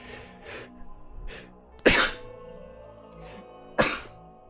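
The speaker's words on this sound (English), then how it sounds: "I'm about to sneeze." Two sharp, loud sneezes burst out about two seconds apart, separated by quiet breaths and small sniffles.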